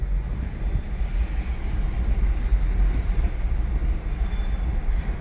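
A Toyota SW4 on the road gives off a thin, steady high-pitched squeal, reflecting off vehicles by the roadside, riding above a constant low rumble of tyres and engine with no talking.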